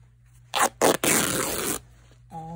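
Cut jacket fabric torn by hand, two quick loud rips followed by one longer continuous tear, close up with quiet pauses between and no talk.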